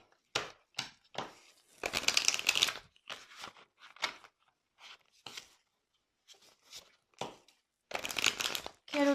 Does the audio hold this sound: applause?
no